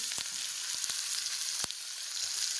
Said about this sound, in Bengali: এবার দিয়ে দিলাম পেঁয়াজ কুচি